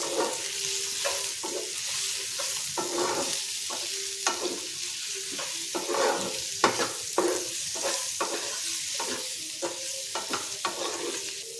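Spices are stirred into a dhaba-style malai paneer curry, with repeated spoon scrapes against the pan in an uneven rhythm over a steady close sizzle, and no one talking.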